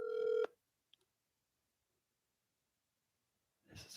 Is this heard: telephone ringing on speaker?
yes